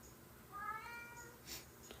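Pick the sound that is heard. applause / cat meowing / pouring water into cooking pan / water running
cat meowing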